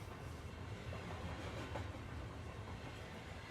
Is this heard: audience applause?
no